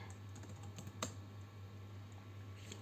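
Quiet typing on a computer keyboard while writing in a table in OpenOffice Writer, soft rapid key taps with one slightly louder click, over a low steady electrical hum.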